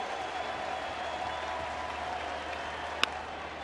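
A baseball home crowd in a Kansas City ballpark claps steadily in a broad, even wash of applause, distant and continuous, with a single sharp crack near the end.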